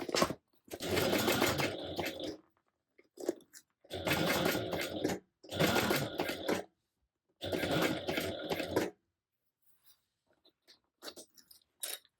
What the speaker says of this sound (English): the pattern does say to stitch it again at a 1/4 inch seam allowance, so that's what we'll be doing